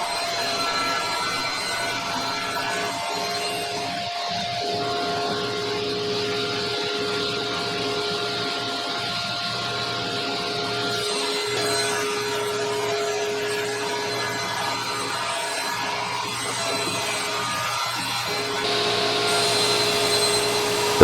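A saw rips wooden side panels for cabinets, a steady loud whining drone with a constant motor hum carrying on throughout and slight shifts as the cut proceeds.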